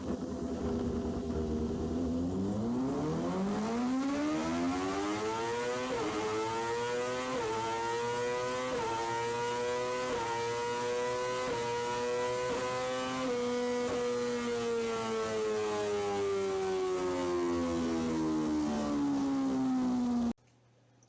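A Moto2 racing motorcycle engine fitted with variable-length velocity stacks revs up from idle into a loud, sustained howl, its pitch stepping and wavering as the throttle is held, then cutting off abruptly.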